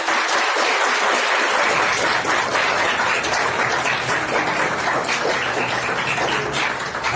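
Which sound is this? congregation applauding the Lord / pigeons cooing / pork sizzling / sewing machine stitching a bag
congregation applauding the Lord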